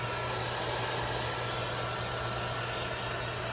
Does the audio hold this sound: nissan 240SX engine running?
no